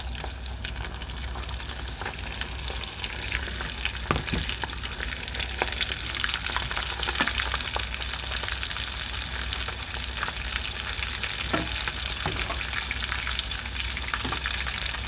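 Small fritters of dried anchovy and onion sizzle steadily in hot oil, a continuous crackling hiss with occasional sharper pops and faint stirring clatter, close and moderately loud with no voices.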